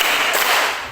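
A class of students clapping together on a counted beat, one loud burst of many hands striking at once, close and bright, fading over a second with no voices.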